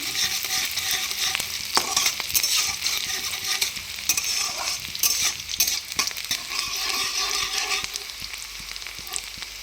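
Onion, fresh green chilies and three dry chilies sizzling in hot oil in a pan, a steady crackling fry broken by repeated spoon stirs and scrapes, close up and without talk.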